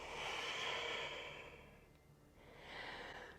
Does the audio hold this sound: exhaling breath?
yes